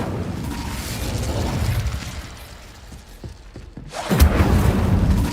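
Incendio fire spell cast in Hogwarts Legacy, a burst of crackling, whooshing flame following a few sharp ticking clicks, loud and close.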